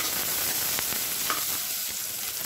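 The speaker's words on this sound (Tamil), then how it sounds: "வெங்காயம் நல்லா வதங்கணும்." Sliced onions sauté in oil with curry leaves for a baby jackfruit masala, producing a steady, close frying sizzle with a few light stirring scrapes.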